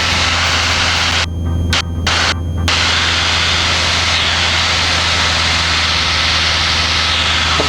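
Steady, loud engine drone of a 1998 Citabria Explorer light aircraft in flight, heard from the cockpit as a constant hum with a brief dropout near the start.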